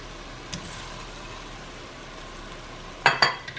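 Lomo saltado with tomatoes and onions being tossed in a pan, a faint steady sizzle with one soft knock and then two sharp pan clatters near the end, alone without talk.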